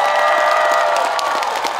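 A festival concert crowd applauding at an autumn flower festival, with dense steady clapping filling the whole moment and no voices standing out.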